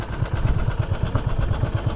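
A fishing boat's engine started and idling after two days without going out to sea, a steady low throbbing chug with regular pulses, close and fairly loud, no voices.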